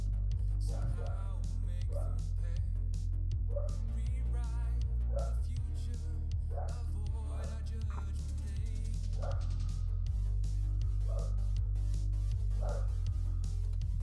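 A dog barks repeatedly in sharp, evenly spaced bursts over a steady low hum, fairly close and loud.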